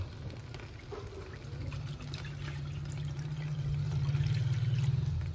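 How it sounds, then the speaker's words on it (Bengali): Water pours steadily over soaked chana dal being washed in a vessel, a continuous trickling flow that grows slightly fuller and louder toward the end, with no voices. "আমি যে ডালটা ধুয়ে দিয়ে দিচ্ছি, ডালটা ভিজিয়ে রেখেছিলাম কিন্তু"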